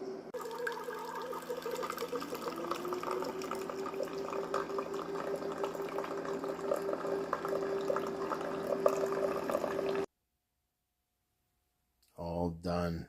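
A Keurig coffee maker runs on a battery power unit during a snowstorm power outage, giving a steady whirring, gurgling brew sound with a faint tonal hum for about ten seconds before it stops.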